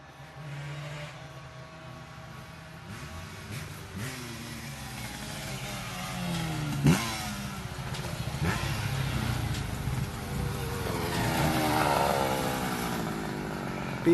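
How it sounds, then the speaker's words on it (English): A group of mopeds drives past on a street, their buzzing engines building into a loud, rough drone that swells and lingers over about fourteen seconds. "Oh, the moped gang is back."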